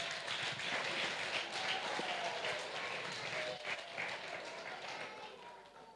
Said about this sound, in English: Let's give them a huge round of applause for everything they have done.